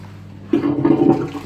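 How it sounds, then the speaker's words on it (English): An Ideal Standard Alto toilet in a pub flushes, opening with a sudden close rush of water that churns loudly for about a second, with no voices. "Want to flush it again."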